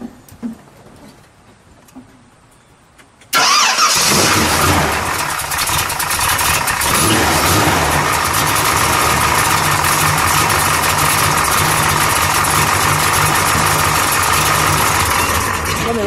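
A 1966 Ford Galaxie 500 hardtop with a 7-litre V8 cranks and catches after a few quiet seconds, then settles into a loud, steady, rumbling idle that carries on to the end.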